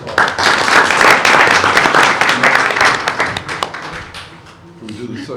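An audience at a school board meeting breaks into a round of applause, with dense, close clapping that stays loud for about three seconds before thinning into scattered claps and room murmur.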